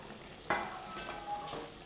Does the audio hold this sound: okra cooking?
yes